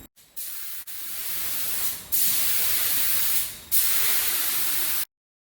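Spray painting a base coat onto a GQ Patrol dual cab ute: three long, loud, steady bursts of hissing spray separated by brief pauses, then an abrupt stop, close by with no speech.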